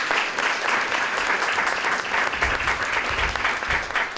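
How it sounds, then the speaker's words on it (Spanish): Loud, steady audience applause fills a book-day event hall in San Roque, dense and continuous throughout with no voices over it. "Un aplauso para ella,"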